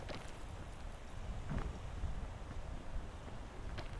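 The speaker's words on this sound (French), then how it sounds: "Putain de vent de merde." Wind blowing in the video game PEAK, a continuous low, rushing roar that stays even throughout with slight gusting swells and no talking.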